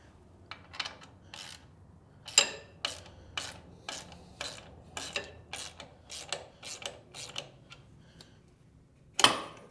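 A wrench loosens a sway bar bolt on an abandoned Ford F150's suspension, a quick series of sharp metallic ratcheting clicks in uneven bursts, close by, with a louder clank near the start and another at the end.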